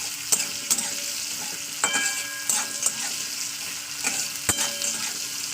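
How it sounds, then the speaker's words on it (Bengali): Chopped onions fry in hot oil with a steady close sizzle, punctuated by sharp clicks and scrapes of a spoon stirring the pan, no talking. "এবার পেঁয়াজটাকে একটু লালে লালে করে ভেজে নেবো"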